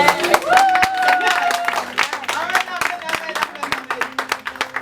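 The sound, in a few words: congregation clapping and cheering in acclaim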